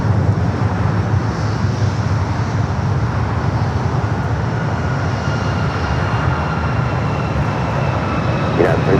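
An airliner makes a south-side takeoff at LAX, its jet engines a loud, steady roar that holds for the whole stretch. A voice talks over the noise now and then.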